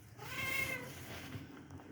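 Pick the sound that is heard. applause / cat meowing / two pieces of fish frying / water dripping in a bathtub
cat meowing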